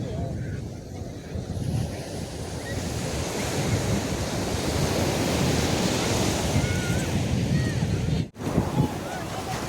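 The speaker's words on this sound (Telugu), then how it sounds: "అక్కడ ఒక వేవ్ వస్తుంది కదా, కనిపిస్తుంది కదా" Ocean waves wash steadily onto a beach in Andhra Pradesh as a continuous broad roar with wind buffeting the microphone, and a brief dropout near the end.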